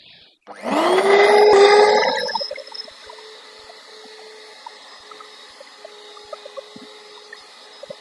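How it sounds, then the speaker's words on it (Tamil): Electric hand mixer whirring loudly as it beats nine eggs for a fluffy egg cake, a strong motor drone for about a second and a half, then running on quieter with a steady hum and faint clinks. "இதை நல்ல வடிவா அடிச்சு எடுப்போம். மிஷினால தான் அடிச்சு எடுக்க போறேன்."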